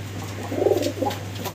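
A pair of pigeons at a pigeon market gives a short, clear coo, close and fairly loud over a steady background hum.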